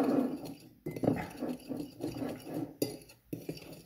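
Chicken feet with chili powder stirred in a pan, utensils clinking and scraping against the cookware in quick irregular strokes, close and fairly loud, with brief pauses and no talking.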